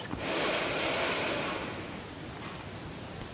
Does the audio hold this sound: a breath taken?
yes